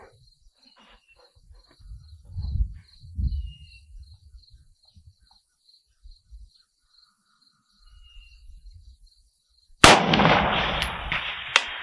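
A Zastava M90 rifle fires a single shot at a distant target, a sudden loud crack followed by a lingering roar near the end, after a long quiet stretch of steady crickets and faint outdoor noises.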